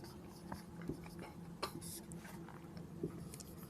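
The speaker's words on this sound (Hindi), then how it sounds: "फिर यहाँ हम लिखेंगे यूक्लिड" Faint, scattered strokes and taps of writing on a board during a maths lesson come in short irregular bursts against a quiet room.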